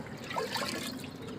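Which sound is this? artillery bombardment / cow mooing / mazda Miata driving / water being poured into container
water being poured into container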